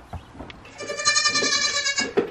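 Hungry goats in a barn bleat loudly and close by, one drawn-out wavering cry following a few short grunting calls.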